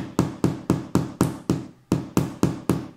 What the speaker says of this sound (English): hammer that whole stack in there